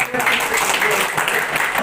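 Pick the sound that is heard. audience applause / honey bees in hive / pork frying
audience applause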